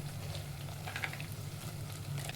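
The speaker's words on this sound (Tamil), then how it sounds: "வெங்காயத்து கூட போட்டு இந்த காஞ்ச சுண்டக்காவை வறுத்துக்கணும்" Dried turkey berries fry with onions in oil for a Tamil vatha kuzhambu, giving a faint, steady, soft sizzle under a low hum, with no talking.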